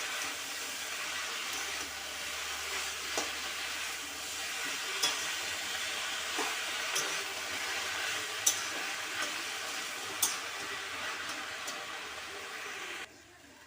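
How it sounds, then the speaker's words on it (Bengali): Chalkumro (ash gourd) greens being stirred with vegetables and spices in a pan, giving a steady soft sizzle with light scraping and occasional small clicks throughout. "আমি ভালো করে সবজিগুলোকে আর মশলাটাকে এর সাথে মিশিয়ে নেব"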